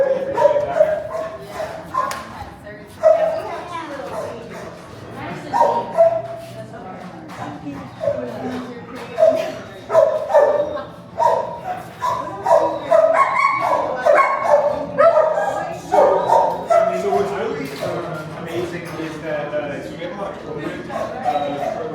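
Dogs at a pet adoption center, in the section holding bigger dogs, bark and yip almost nonstop in a loud echoing chorus, with whimpers mixed in and people talking faintly underneath.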